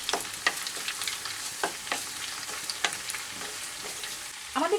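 Whole cumin seeds, bay leaves and dried chillies fry in hot oil, a close steady sizzle with scattered crackles and pops and a brief stir near the end.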